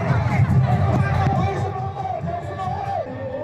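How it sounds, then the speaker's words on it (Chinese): A crowd at a Wa festival breaks into loud cheering and shouting, a dense roar of many voices close by that tapers off toward the end. "忽然间，整个人群就沸腾了起来"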